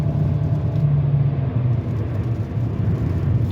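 A car with no power and no check engine light, pedal floored yet failing to accelerate: a loud, steady low engine drone and rumble from inside the car, with no speech.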